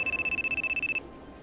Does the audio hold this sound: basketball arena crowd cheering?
no